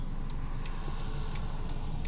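A Starlie, a home-built car, drives along Canterbury Road with a steady low engine hum and road roar heard from inside. Faint regular ticks repeat about every third of a second above the drone.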